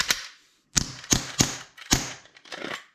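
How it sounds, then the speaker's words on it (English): An Umarex Glock 19 BB pistol, low on CO2 and leaking, dry fires in a quick series of sharp, loud mechanical snaps, close and alone, about seven clicks in three seconds. "I'll be dry firing it just to show you that it does work."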